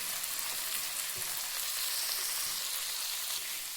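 Chopped tomato and capsicum sizzle and fry in a pan with cumin, a steady, close, even hiss of hot oil running without pause and with no voices.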